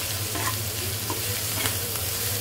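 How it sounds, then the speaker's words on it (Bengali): Dried fish fries with onion and garlic in oil: a continuous close sizzle with a few soft stirring scrapes and a low steady hum beneath, no speech. "এই তো শুটকিটা হচ্ছে ভর্তা করব, পেঁয়াজ রসুন দিয়ে সুন্দর করে ভেজে নিচ্ছি।"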